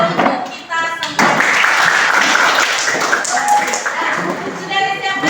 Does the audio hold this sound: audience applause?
yes